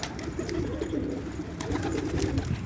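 Pet pigeons feeding from a person's hand, their soft cooing and fluttering steady and close throughout, with no talking.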